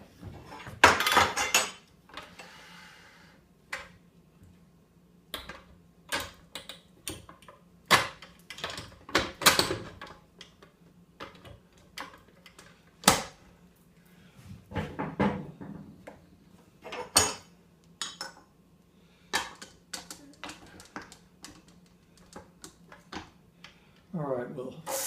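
A stand mixer kneads bagel dough at medium speed, giving a steady low motor hum beneath repeated clanks, knocks and clinks against the bowl throughout.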